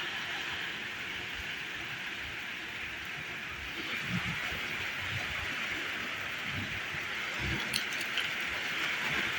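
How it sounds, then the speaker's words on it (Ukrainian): Rain falling outdoors on a windy autumn day near a rural shed, a faint, steady hiss of drops with soft irregular pattering that swells slightly toward the end, no voices. "І пустився дощ."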